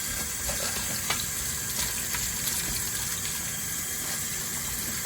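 A kitchen tap pours water steadily over minced meat being washed for keema madras. The rushing, splashing flow is close and fairly loud, with no voices.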